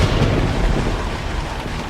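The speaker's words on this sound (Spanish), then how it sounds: "la tormenta llevaba en sus gélidas alas no nieve, sino un enorme granizo que cayó con tal violencia" Stormy weather with thunder rumbling and heavy rain or hail pounding steadily, a loud, dense wash of low rumble and hiss with no pauses throughout.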